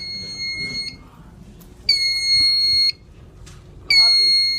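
A ceiling smoke detector in a fire alarm installation sounds loud, piercing electronic beeps in repeated one-second bursts separated by brief pauses, close by, with faint room noise between the tones.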